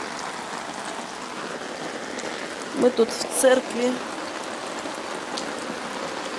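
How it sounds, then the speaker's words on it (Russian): Rain drips steadily in Sevastopol near a church, a continuous close patter and hiss, with a voice briefly speaking in the middle. "Ну что, Севастополь, первый раз дождь капает."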